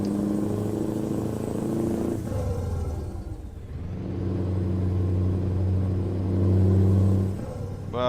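A Scania 730 V8 truck engine in Euro Truck Simulator rumbles steadily at low pitch, dipping briefly as if shifting, then building again with a deeper swell toward the end.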